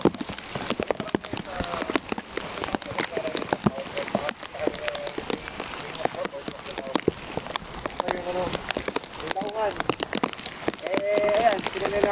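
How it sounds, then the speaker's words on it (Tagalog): Heavy rain falls in the open during a motorcycle ride in Bicol near Mayon Volcano, a steady patter of drops under frequent talking voices and scattered clicks. "Lakas ang ulan, no?"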